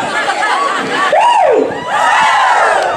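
A crowd shouts together in a loud, rising cry at a pool party aboard a cruise ship, many voices swelling and falling across a few seconds.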